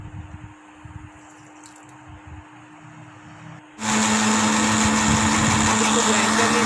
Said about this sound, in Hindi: इसको ब्लेंड कर लेते हैं।